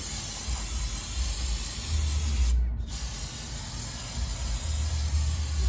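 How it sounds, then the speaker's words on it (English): A steady, loud brake cleaner aerosol spray hisses continuously for several seconds, close up, on a Chevrolet Silverado's brakes, with a brief interruption midway and no talking. "Good healthy spray of brake clean."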